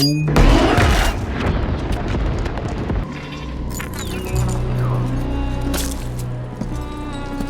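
Bombs going off in the Arcane animated series, a loud booming blast at the start followed by rumbling, crackling explosion noise and scattered debris over several seconds.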